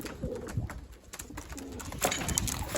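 Homing pigeons cooing close by, low throaty murmurs repeating with fluttering and shuffling noises mixed in, no talking.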